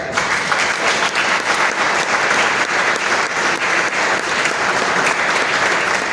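Loud, sustained applause from an audience, dense clapping that holds steady throughout.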